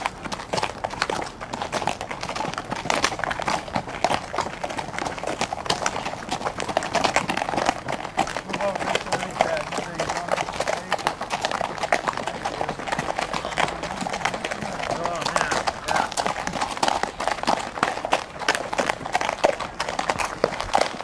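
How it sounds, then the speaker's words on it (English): Continuous clip-clop of horses' hooves on a hard surface, many steps overlapping steadily, over a constant outdoor rumble. "And we got some horses next to us."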